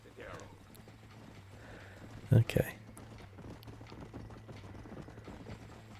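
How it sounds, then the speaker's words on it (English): Horse hooves clip-clop on a trail in the video game Red Dead Redemption, a steady soft rhythm of hoof steps under a quiet game soundscape, with a brief louder bump midway and a voice speaking softly. "Guess this is easy on my horse"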